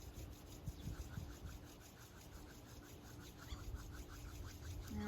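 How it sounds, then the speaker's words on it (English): Palms rub together at the start of a kriya yoga set, producing a soft, continuous brushing hiss with a gentle back-and-forth rhythm, quiet and close, with no talking. "Rub the palms together."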